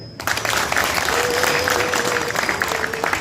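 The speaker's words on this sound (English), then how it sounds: "Now let us clap for Nida." A crowd at a national primary schools music festival breaks into loud, sustained clapping that begins abruptly and keeps up densely, with a faint tonal hum running beneath.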